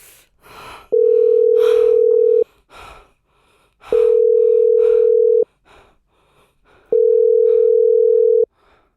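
A telephone line gives three identical steady tone bursts after the other end hangs up, each about a second and a half long, evenly spaced and loud, with faint breaths and gasps in the gaps between them.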